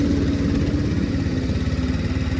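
A Honda ATC70 three-wheeler with a swapped-in 110cc electric-start engine idling, a steady close chugging putter with an even pulsing rhythm and no talk.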